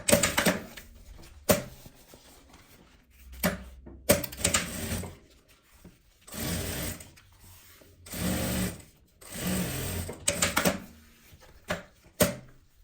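A sewing machine stitches a zipper onto nylon 600 fabric in short bursts of rapid mechanical whirring, about eight runs separated by brief pauses and handling noises, close and fairly loud with no talking.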